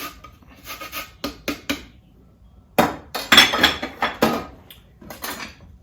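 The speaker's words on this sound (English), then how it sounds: "going to scrape a little bit of lime zest in there" A lime scraped against a metal grater for zest in a kitchen, a series of sharp, close, raspy strokes in irregular bursts with brief pauses, some with a faint metallic clink, no talking.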